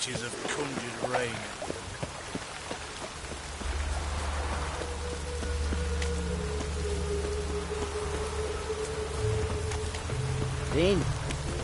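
Witch-conjured rain keeps falling in The Witcher 3: Wild Hunt, a constant hiss of drops over a low droning bed, joined by a few tonal game sounds and swells as the shower carries on.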